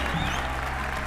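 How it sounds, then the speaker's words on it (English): A moderately loud wash of clapping fills a hall at the Entrepreneurship World Cup Final as an audience applauds award winner Nomic, a steady dense patter with a low hum beneath it. "A big round of applause to this incredible achievement."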